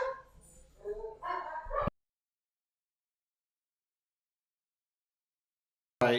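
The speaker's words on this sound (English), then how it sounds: "Sorry, house dogs barking." Dogs bark and yelp close by for a couple of seconds, then silence until one more bark cuts in at the end.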